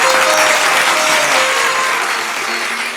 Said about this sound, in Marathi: एकदा टाळ्या होऊन जाऊ देत त्यांच्यासाठी